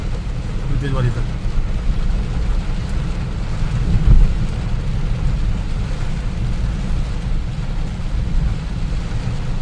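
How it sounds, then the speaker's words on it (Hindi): Heavy rain pours down steadily on the Meerut–Delhi expressway amid traffic, in a dense, loud wash of noise, with a dull rumble underneath throughout. "तेज बारिश है।"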